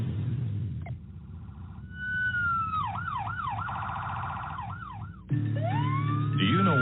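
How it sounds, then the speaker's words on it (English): An emergency vehicle siren wails and yelps as it approaches, its rising and falling tones growing louder over a steady road rumble, with a sharp jump in level near the end. "Do you know what to do when you hear an emergency vehicle approaching?"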